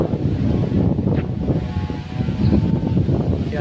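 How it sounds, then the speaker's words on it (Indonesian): Strong wind roars steadily and loudly across the microphone, a dense constant rush with gusty swells and no voices. "padahal angin sudah kencang seperti itu"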